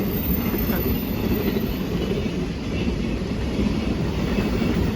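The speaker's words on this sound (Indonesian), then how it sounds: "Jadi yang lewat ini kereta barang." A long freight train rolls past in Japan, a loud continuous rumble of wagons and wheels on rails that holds steady throughout, with faint clatter and occasional wheel squeal.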